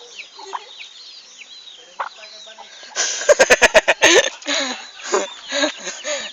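Roosters and chickens on a farm, with clucks and calls scattered throughout and a louder burst of crowing and squawking in the middle, close to the listener.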